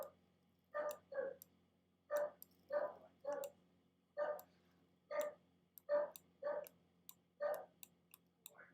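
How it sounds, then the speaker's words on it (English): A dog barks in the background, a dozen or so short, faint barks arriving singly and in pairs over several seconds. "If you can hear my dog barking in the background"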